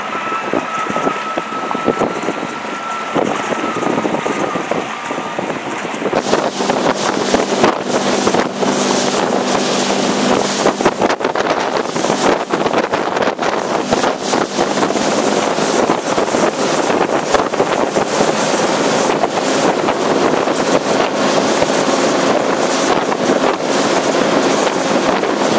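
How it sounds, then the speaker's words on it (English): An SH24 boat runs across open water, its engine roar and slapping hull buried under heavy, constant wind buffeting on the microphone, loud and unbroken. "let's take a ride in the boat"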